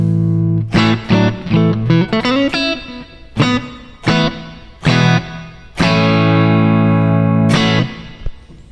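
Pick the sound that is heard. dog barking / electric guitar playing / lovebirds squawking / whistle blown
electric guitar playing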